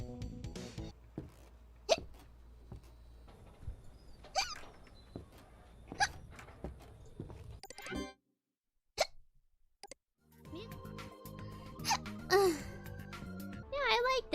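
A woman streaming as a VTuber hiccups over and over, a run of short sharp close-up hiccups spaced unevenly across the stretch, with a brief quiet gap partway and busier, denser sound toward the end.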